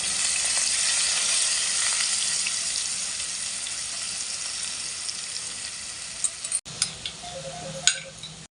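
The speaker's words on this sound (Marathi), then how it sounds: "बारीक चिरलेला कांदा टाकूया." Finely chopped onion hits a hot pan with garlic and green chili for kaju masala, giving a steady sizzle that gradually softens, then a few brief clinks and stirring knocks near the end.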